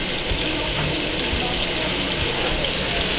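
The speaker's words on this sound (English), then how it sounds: "I'm going to drain some of the oil now" Hot oil drained from a pan of fried vegetables gives a steady, loud hiss and sizzle with no pauses, close up and with no talking over it.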